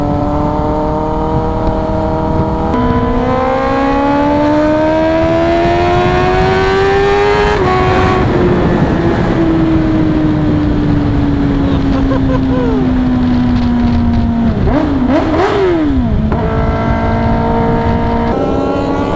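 A Kawasaki ZX10R motorcycle accelerates hard through the gears in 4th, its engine note climbing steadily in long sweeping pulls with brief dips at each shift, loud and close throughout with no talk over it.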